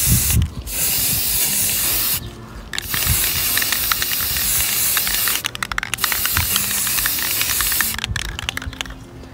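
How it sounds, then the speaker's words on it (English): Chalk spray paint hisses from an aerosol can in several long bursts separated by brief pauses, close and loud. "Now I'm going to spray the chalk paint a little bit."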